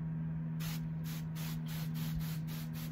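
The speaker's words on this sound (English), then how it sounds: "this is a watering jug that you pump to get the water, and then what it does, let me just make sure, it spray mist." A hand-pumped watering jug sprays mist in a string of short, even hissing bursts, close and alone over a steady low hum, in a South Florida garden setting for seedlings.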